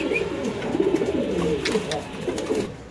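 Large pigeons at a pigeon market cooing steadily nearby, their low throaty calls overlapping with faint background chatter.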